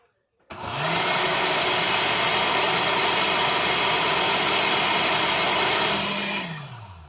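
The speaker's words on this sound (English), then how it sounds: "Usually I've never used the blender." A kitchen blender whirs up abruptly, holds a loud, steady motor drone for about six seconds, then winds down with a falling pitch before stopping.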